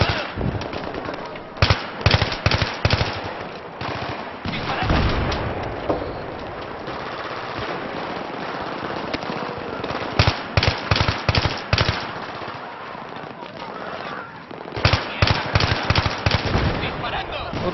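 Bursts of automatic and single-shot gunfire in Battlefield 3 co-op play, loud and close, coming in repeated clusters with lulls between them, while players talk over the action.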